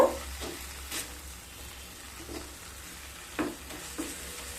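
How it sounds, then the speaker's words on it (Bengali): Fenugreek greens are stirred into spices in a pan for a garlic methi dish, giving a faint low sizzle with a few sharp spatula scrapes spaced apart, close and quiet, with no talking. "শাকগুলোকে দিয়ে খুব ভালোভাবে মশলার সাথে মিশিয়ে নেব"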